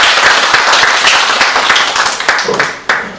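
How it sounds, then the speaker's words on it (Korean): Audience applause in a lecture hall, loud, steady clapping from a crowd welcoming a keynote speaker on volcanic hazards at a science education conference, with a few sharper claps near the end. "박수로 맞아주시기 부탁드립니다."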